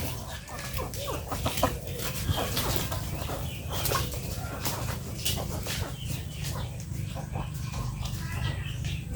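Chickens cluck steadily in a busy farmyard, with sharp, overlapping calls above a constant low rumble and occasional voices mixed in.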